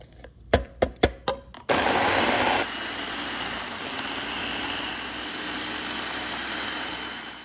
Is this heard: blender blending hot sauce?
yes